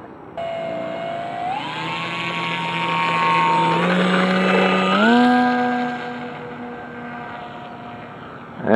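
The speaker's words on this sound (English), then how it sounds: "Alright, ready for takeoff." A small remote-controlled model plane, the Ruby by uThere, takes off on its maiden flight: a steady motor drone rises in pitch as it throttles up, holds loud and sustained, then eases off as the plane climbs away.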